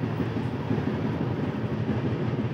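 Steady rumble and rattle of a passenger train running between Bangalore and Mysore, heard from inside the carriage as a continuous loud roar with no talk.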